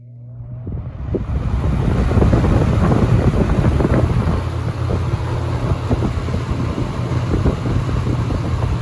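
An electric fan (K-223 X 3723S) fitted with heavier swapped blades spins up and runs on high, a steady rushing whoosh with a low motor hum that builds over the first seconds and then holds.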